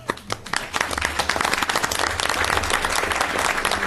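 Applause from the audience at an Urbana city council meeting, a dense, steady wash of many hands clapping together, close and fairly loud, sustained throughout without speech.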